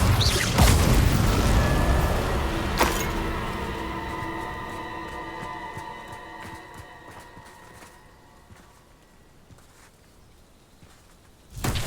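Spell explosions from Bombarda and Confringo in Hogwarts Legacy, a heavy booming blast up front followed by a second sharp burst, then a long ringing, slowly fading tail before another impact hits at the very end.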